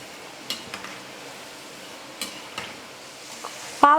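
Bitter gourd slices frying in oil in a pan on a stove turned to full heat, a soft steady sizzle with occasional utensil clinks and stirring taps, closing with a louder metallic scrape.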